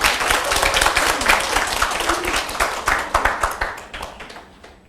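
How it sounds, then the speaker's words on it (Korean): An audience breaks into applause at a talk on real estate auctions, a dense burst of many hands clapping that is loud at first and slowly thins out toward the end. "이쯤에서 박수 한번 나와야 하는 거 아닌가요?"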